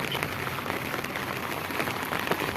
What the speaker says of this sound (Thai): ฝนตกคักขนาดเลย